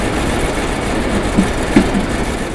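Bentley Arnage T engine running, a car with a reported misfire, producing a loud, steady idling rumble with a couple of brief, low thumps in the middle.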